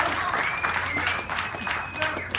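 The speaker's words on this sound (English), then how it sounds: "we should have a little round of applause for the two-time world heavyweight champion" A crowd at a heavyweight boxing press conference gives a short burst of clapping for a two-time world heavyweight champion. The applause is moderate and fairly steady, and a voice speaks over it.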